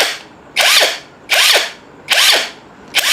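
A RUTH impact drill spins in rotation mode in repeated bursts: four loud whirring runs, each cutting off after under a second, with short quiet gaps between them, close up.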